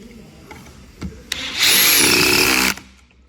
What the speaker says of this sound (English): here's a quick look at the brand new DCF 870 DEWALT's first hydraulic impact driver